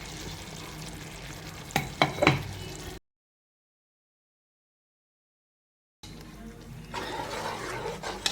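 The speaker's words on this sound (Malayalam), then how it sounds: "നല്ലോണം ഇളക്കുക." Drumstick leaf curry with ground coconut, shallots, chili, curry leaves and cumin being stirred in a pan, with a few scraping clatters, a gap of silence, then a steady sizzle.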